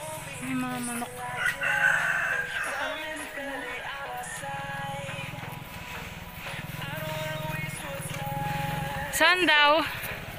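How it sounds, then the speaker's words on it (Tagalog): Chickens cluck nearby on a farm as a rooster crows loudly near the end, with people talking over the farmyard noise throughout. "May mga manok."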